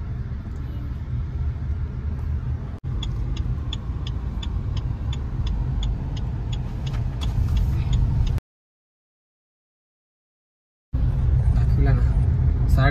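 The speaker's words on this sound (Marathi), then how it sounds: "काय अपर्णा गाडी चालवते." A car driving through city traffic toward a mall gives a steady low cabin rumble heard from inside, with a regular ticking like an indicator and a short silent gap, under people talking.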